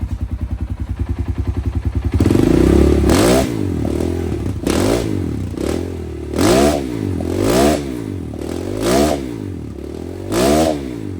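A motorcycle engine fitted with a Mikuni carburetor that has not yet been jetted starts with a fast idle chatter, then runs loud and close while warming up, with repeated rising and falling revs.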